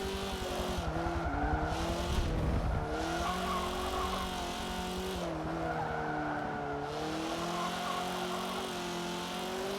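Race car tires squealing and sliding in understeer in Forza Motorsport 7, a drawn-out tonal screech over a steady engine drone, swelling twice with louder scrubbing bursts, alone and close.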